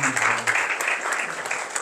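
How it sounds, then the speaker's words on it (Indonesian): Seminar audience applauding a guest speaker at an Indonesian campus event; a short burst of steady clapping right after a brief voice at the start. "Sekali lagi tepuk tangan untuk narasumber kita hari ini"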